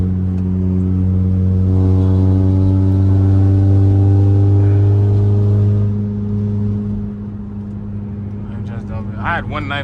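A 6-speed Honda Accord engine being revved while driving: a loud, steady mid-pitched drone held for several seconds, then dropping away to a quieter idle-like hum.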